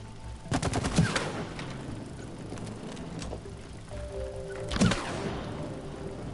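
Gunfire from It Takes Two rings out as targets are shot, with rapid bursts of sharp shots near the start and another volley toward the end, over a low background rumble.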